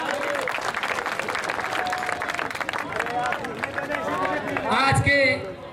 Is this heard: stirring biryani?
no